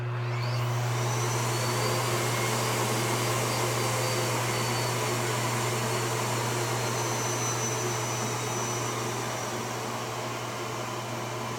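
A Miele Cat Dog U1 upright vacuum cleaner runs steadily with a loud, constant motor drone and airy suction hiss, its tone easing slightly as the suction control is turned down, heard alone up close.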